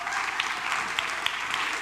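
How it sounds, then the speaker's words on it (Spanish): Audience at an in-person gathering applauding, a dense patter of many hands clapping steadily throughout, moderately loud and close, with no speech over it. "Vamos, un aplauso."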